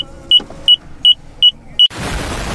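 A parked car gives five sharp, evenly spaced beeps over a low background hum, then a sudden louder broadband rush of noise takes over.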